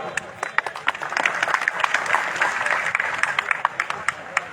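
Applause from a crowd at a Gondwana Gantantra Party political rally, many hands clapping steadily and fairly close for several seconds, with scattered sharper claps standing out above the dense patter.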